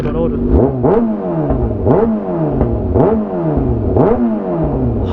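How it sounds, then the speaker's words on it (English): A Kawasaki ZX6R 600 sportbike fitted with an SC Project CRT exhaust revs hard in repeated loud blips, roughly one per second, each rising and falling sharply, with a person talking over the engine. "This is what my bike sounds like."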